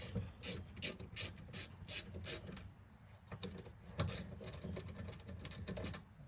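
Ratchet with a 14 mm socket on a 3/8-inch drive working on the rear brakes of a 2002-2006 Honda CR-V, giving a steady run of quick rasping clicks close up, with no talk.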